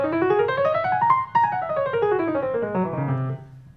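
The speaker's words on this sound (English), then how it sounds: "It comes from the altered scale, which is a really cool sounding scale in jazz." Jazz altered scale played on piano, a fast single-note run climbing then descending in clear sustained tones, close and alone, with no voices.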